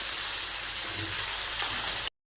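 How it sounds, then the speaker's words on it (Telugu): Peanuts, onion, green chilli and carrot sizzle steadily in hot oil in a pan for oats upma, a continuous close frying hiss that cuts off abruptly near the end. "ఇవి వేగుతూ ఉన్నాయండి."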